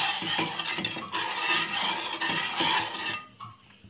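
Milk stirred in a pan over a gas flame while making chocolate custard, a steady scraping and clinking of a utensil against the metal pan for about three seconds, then quieter, sparse taps at the end.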